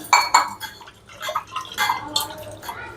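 Rice and water are stirred together in a pot for ven pongal, with close watery sloshing and light clinks against the vessel in uneven bursts, moderately quiet and without talk.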